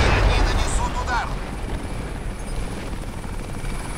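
A helicopter in the video game Crysis, a steady heavy rotor roar filling the scene, with a brief burst of higher effects early on before the drone settles.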